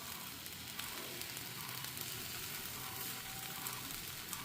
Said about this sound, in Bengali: এটা আপে বা আপাম যে বলে তার ব্যাটার, সেটাকে ভাজবো আমি এখন এই ধোসার তাওয়ায়